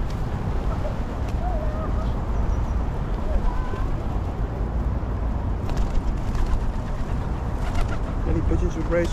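Pigeons coo at County Lock on the river in Reading, soft calls rising now and then from a steady outdoor hum of water and distant traffic.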